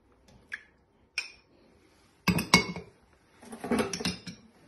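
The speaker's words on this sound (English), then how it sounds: "And with your whisk, just give it a quick whisk up." A whisk beats egg and yogurt batter in a bowl, opening with a few isolated clinks and then turning into two bursts of rapid metallic rattling against the bowl, close by.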